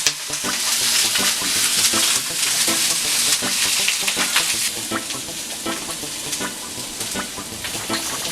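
Food simmers loudly in a pan, a dense continuous sizzling bubble with scattered crackles and faint stirring scrapes running throughout, up close and with no voices.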